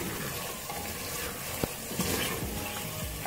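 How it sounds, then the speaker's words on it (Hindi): Potatoes and mutton frying over high heat in a pan make a steady close sizzle, with a few clinks and stirring scrapes breaking through the continuous hiss. "आलू और गोश्त को मैं तेज आंच से भून लिया बहुत अच्छी तरह से"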